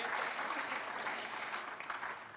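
Clapping from the audience at a school Year 12 cabaret, a continuous mass of hands heard from a little distance, tapering slightly at the end.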